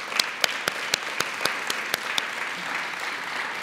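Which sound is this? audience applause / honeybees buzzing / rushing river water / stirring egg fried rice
audience applause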